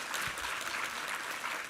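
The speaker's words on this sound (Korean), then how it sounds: "우리 하나님께 감사와 영광의 박수 올려드리겠습니다." A church congregation applauds during a Sunday worship service, a brief, dense wash of many hands clapping, steady and fairly faint, with no voices.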